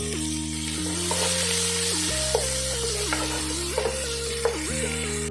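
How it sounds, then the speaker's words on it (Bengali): Chopped onion fries in hot oil for a pabda fish dish, a soft continuous sizzle with a few stirring clinks, all set under steady background music. "পেঁয়াজটাকে একটু ভালোভাবে আমি ভাজা করে নেবো"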